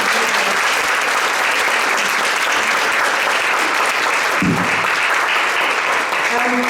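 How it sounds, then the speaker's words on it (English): Steady, loud audience applause at a mental health presentation, sustained clapping from a seated crowd filling the whole stretch without a break. "Can I have a round of applause?"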